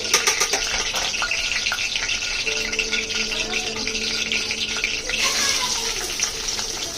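Onions frying in hot oil for a chicken curry produce a loud, continuous, rushing sizzle, with a faint voice murmuring underneath.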